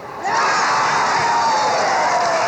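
A crowd at a 1977 youth basketball tournament final erupts into loud, sustained cheering and shouting, with many young voices, filling the whole stretch without a break.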